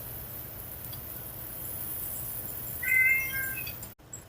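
A pet cat gives a single short meow in a busy kitchen during cooking, rising clearly above steady background hum before cutting off abruptly.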